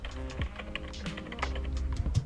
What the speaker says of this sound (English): I'm also using, as you can see, this like computer keyboard effect when the keyboard comes in